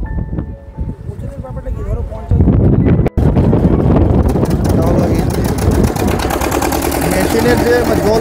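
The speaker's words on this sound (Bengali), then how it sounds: "মেশিনের যে জল পাম্প করার ইঞ্জিনগুলো থাকে এটার মাধ্যমেই এগুলো দিয়ে লাগিয়ে দিয়েছে এখানে বোটে, তো এটার মাধ্যমে চলে" A river boat driven by a water-pump engine runs with a loud, steady mechanical drone, heavy wind buffeting the microphone, and a person talking over it.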